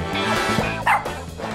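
A puppy gives a few short, high, yapping barks close by over a steady tonal background, each bark brief and sharp within a second and a half.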